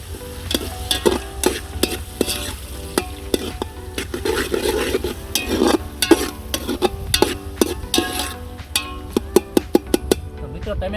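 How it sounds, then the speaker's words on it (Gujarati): Tomatoes and onion cook in hot oil in a pan for a Kathiyawadi masala rotli snack, giving a steady low sizzle broken by repeated sharp scrapes and clinks of a spoon stirring against the pot. Low talk runs underneath. "ટમેટા સારી રીતે ઓગળી જાય ત્યાં સુધી તેને તેલમાં ઓગળવા દઈશું"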